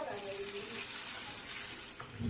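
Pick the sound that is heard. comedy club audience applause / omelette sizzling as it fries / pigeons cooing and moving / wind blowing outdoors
omelette sizzling as it fries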